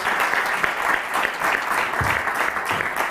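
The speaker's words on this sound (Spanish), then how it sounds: "un aplauso, gracias." Audience applause at a round-table session of a conference on healthy building innovations and products, a steady dense clapping that fills the whole stretch at even loudness with no speech over it.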